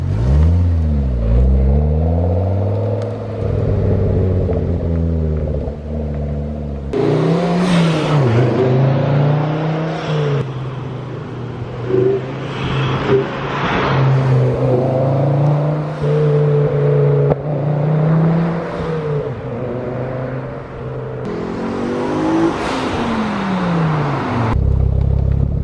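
A tuned 2.5-litre turbo Golf R running without an intercooler revs and accelerates past in a loud, close drive-by, its engine note rising and falling over a sustained roar.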